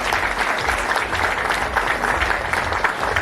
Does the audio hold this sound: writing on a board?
no